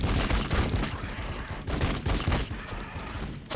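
Rapid gunfire bursts in the strategy video game Warhammer 40k Battlesector, dense overlapping shots that are loud and continuous with no talk.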